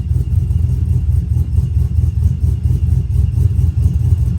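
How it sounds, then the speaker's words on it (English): A small-cam V8 idling at 800 RPM with about 26 degrees of idle timing, loud and close, with a lopey, pulsing low rumble that chops rhythmically and never settles. "So this is 800 RPM idle."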